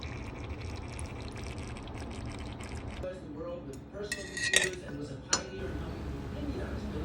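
Seafood such as lobster and crabs cooks in pots and pans, with clinking metal, liquid sounds and a couple of sharp clanks while a person talks.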